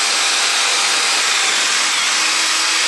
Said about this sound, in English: I'm going to use a 10mm diameter drill bit to drill the hole for the handle